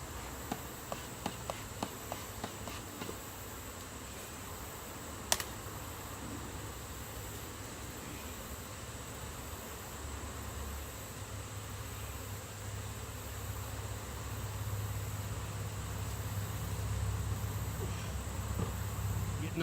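Upset honeybees buzz steadily around their hive, a dense continuous insect drone lasting throughout, with a few sharp ticks and knocks early on and one brief clack near the middle.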